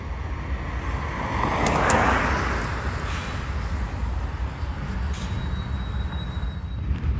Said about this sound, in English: a BNSF grainer with H1-9 leading and Gevo number 40 in trail passed by